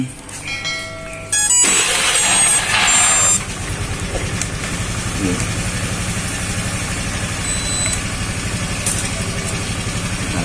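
After a crash, a drone is switched on for testing: a few short start-up tones, then a louder burst, then a steady whirring hum of the motors that runs to the end.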